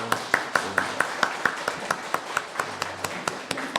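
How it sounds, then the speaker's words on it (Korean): A church congregation at a Sunday worship service clapping to welcome newcomers, a loose rhythmic run of distinct claps at a steady pace over a faint room background. "박수로 환영합시다"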